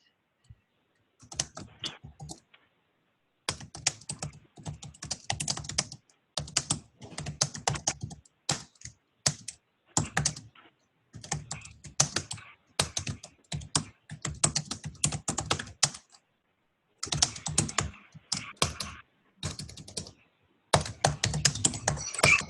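Someone types on a computer keyboard close by, in quick bursts of clattering key clicks broken by brief pauses, continuing steadily for over twenty seconds.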